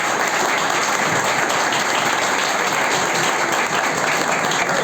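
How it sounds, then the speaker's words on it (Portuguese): Steady, dense applause from an audience at a talk fills the whole stretch, loud and continuous with no voices standing out. "Pessoal, palmas para o Alcides"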